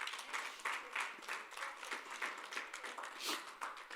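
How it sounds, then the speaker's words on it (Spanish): Church congregation applauding the Lord during a Spanish-language service, a fairly faint, steady wash of many hands clapping for about four seconds with no talk over it. "Denle un aplauso al Señor"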